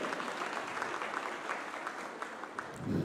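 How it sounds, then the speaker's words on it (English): An audience claps at a festival panel session, a dense steady wash of many hands at moderate distance, swelling slightly louder toward the end. "A better round of applause, please."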